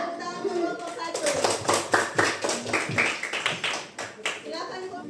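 Children in a classroom clap for a group of classmates, a burst of quick uneven claps with kids' voices chattering around them, rising then tapering off.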